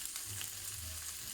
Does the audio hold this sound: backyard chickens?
no